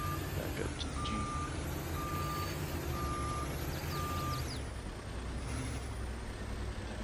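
A truck in the Farming Simulator 22 video game reversing toward a Jeep, emitting four evenly spaced reversing beeps over a steady, fairly quiet engine rumble with air-brake hiss.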